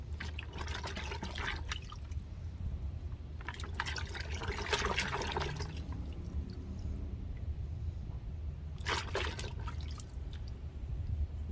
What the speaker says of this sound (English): Got a good bit of water. Give everything a good rinse off.